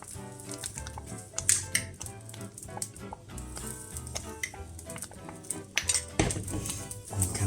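A spoon stirs brown sugar into boiling kimchi paste in a pot, with repeated clinks and scrapes of metal against the pan over a faint bubbling sizzle, close and busy throughout.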